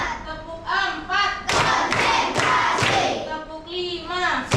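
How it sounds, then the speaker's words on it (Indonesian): A group of children in a classroom claps together in a counted rhythm, the loud bursts of claps landing between stretches of an adult voice giving instructions. "tepuk-tepuk dulu supaya bisa kembali konsentrasi"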